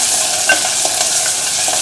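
Garlic frying and browning in oil in a pan while vegetable bhurji is being cooked, giving a loud, steady sizzle with a few stirring scrapes and no talk.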